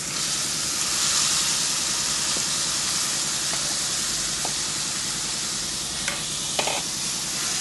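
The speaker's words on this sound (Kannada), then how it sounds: "ಇವಾಗ ಸಣ್ಣದು ಕಟ್ ಮಾಡಿದ್ದು ಆನಿಯನ್ಸ್ ಹಾಕ್ತೀನಿ" Chopped onions frying in oil in a kadai, a steady close sizzle and hiss with faint stirring scrapes and a few brief clinks near the end.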